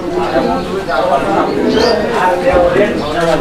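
Big fancy Gopalganj pigeons, a running pair with feathered feet, coo in low, soft, repeated throaty calls close by, partly buried under people talking.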